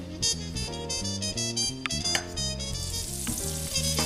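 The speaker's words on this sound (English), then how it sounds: "Ooh, I love the sizzle." Butter sizzles and crackles steadily in a hot pot, with a bright continuous frying hiss and occasional sharper pops.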